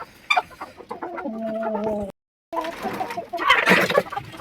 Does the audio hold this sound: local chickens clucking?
yes